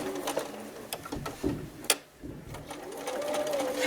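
Sewing machine stitching a reversible baby bib with pivots around curves, giving short uneven bursts of mechanical whirring and clicking, fairly quiet, with brief pauses between runs and a faint voice in the background.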